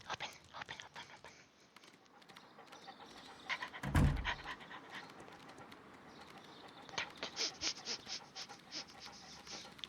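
Toby the dog panting and sniffing in a Sherlock Holmes video game, a soft steady breathing texture with one loud close burst near the middle and quick rhythmic sniffs toward the end, with faint bird-like chirps.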